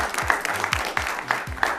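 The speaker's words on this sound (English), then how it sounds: "Please, a round of applause for her." A game show studio audience applauds a guest expert in a short, even patter of clapping that sounds thin and somewhat distant.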